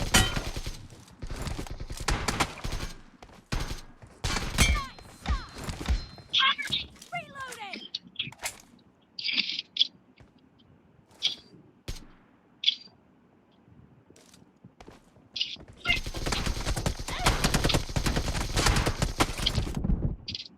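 Gunfire in a first-person shooter video game: sharp, loud shots in rapid bursts and single cracks, spread across the stretch with pauses, mixed with other game effects and a voice talking.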